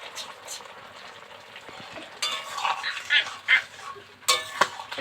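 A spoon stirring cumin paste into a mixed winter vegetable curry in a pan, soft scraping and sizzling in irregular bursts, louder near the middle and end, with a faint background murmur.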